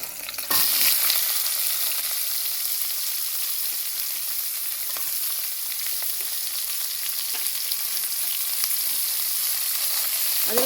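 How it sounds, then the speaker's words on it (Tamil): Chopped onions sizzle steadily in hot oil for mutton biryani, a dense, continuous close frying hiss with occasional faint stirring ticks and no voices. "நல்லா எண்ணெயில் வதங்கிட்டோம் இப்போது கட் பண்ணி வச்ச வெங்காயத்தை போட்டுக்கலாம்"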